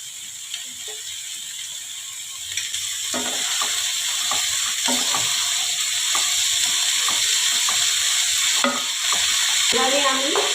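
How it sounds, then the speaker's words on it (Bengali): Finely sliced cabbage fries and is stirred in a pan for a vegetarian curry, giving a steady close sizzle with repeated scraping, rattling stir strokes throughout. "এবারে আমি আগে থেকে বাঁধাকপি ধুয়ে কেটে নিয়েছি, এটা আমি এখন দিয়ে দেবো"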